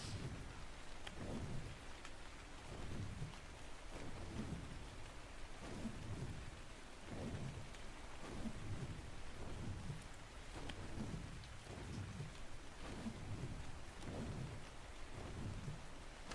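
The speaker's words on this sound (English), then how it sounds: "I think we've got a bit of a rainstorm going too, maybe." A rainstorm in the video game ARK brings a steady wash of rain with repeated low thunder rumbles rolling in every second or two, loud and continuous, with no voices.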